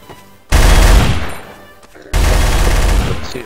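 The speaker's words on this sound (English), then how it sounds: "I'm alive, but someone's shooting at me." Loud, close gunfire in a video game arrives as two dense, sustained bursts of rapid shots separated by a brief lull.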